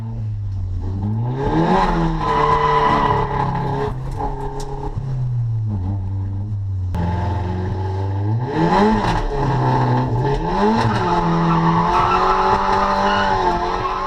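A car slides sideways at a track drift day, engine revving up and down in loud waves while tires squeal continuously, close and sustained throughout with no talk.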